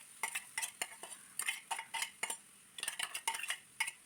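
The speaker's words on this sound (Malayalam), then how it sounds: "ഇതെല്ലാം നല്ലവണ്ണം ഒന്ന് മൂത്ത് കിട്ടുന്നിടം വരെ ഇളക്കി കൊടുക്കാം" A spoon scrapes and clinks repeatedly in a pan as a green gram stir-fry is mixed with crushed coconut, chillies and curry leaves, in quick irregular bursts of close, fairly quiet stirring with no talk.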